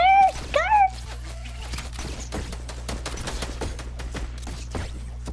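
Pump shotgun shots in the Fortnite video game ring out as a rapid string of sharp, cracking reports at a steady pace, following a brief squeaky, chirping sound at the start.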